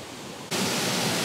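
A Tronsmart Mirtune H1 Bluetooth speaker plays in water, a faint hiss that abruptly jumps after half a second into a louder, steady broadband wash of sound.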